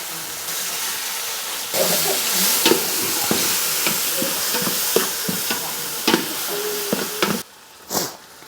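Tomatoes sautéing with onion and spices in a pan for Pondicherry-style biryani, a steady close sizzle broken by repeated clinks and scrapes of a stirring spoon, with a brief hissy burst near the end.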